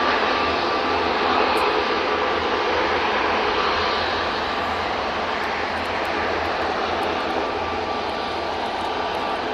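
A Lufthansa Airbus A320-200 on its takeoff roll at Manchester Airport, a sustained broadband jet roar heard from a distance, steady and moderately loud with no voices.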